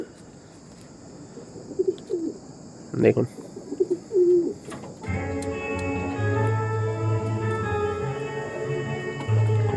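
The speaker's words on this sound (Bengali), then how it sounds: "খুব সুন্দর কোয়ালিটির পায়রা।" Chennai breed pigeons coo in short soft bursts at close range, with someone talking over them before a steady hum takes over.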